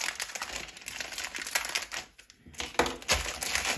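Scissors cut into firm plastic blind bag packaging of Lego Disney Princess minifigures, giving crinkling, crunching plastic with irregular snips and rustles up close, and a short lull midway.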